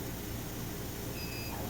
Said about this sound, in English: After a few seconds you'll hear a beep.